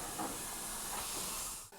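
A steam locomotive on a curved 1 in 60 gradient lets off a loud, continuous rush of hissing steam as it prepares to start, with the hiss breaking off abruptly near the end.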